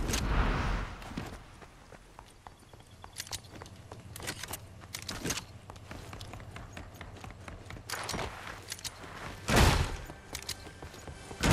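Soft, scattered footsteps patter at a distance under a low ambient hum, with a couple of louder thuds and bursts along the way.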